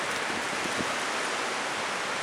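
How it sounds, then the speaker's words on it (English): Light rain falls steadily during a windy storm, a soft, even hiss of drops with no voices, fairly quiet and unbroken throughout. "Seems to be getting worse with the light rain."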